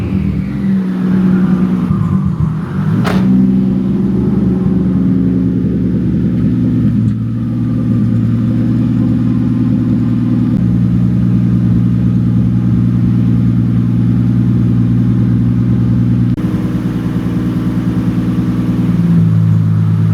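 A Nissan SR20DET engine from an S13 drift car revs sharply once, then settles into a loud, steady rumbling idle with small shifts in pitch, close by in a garage.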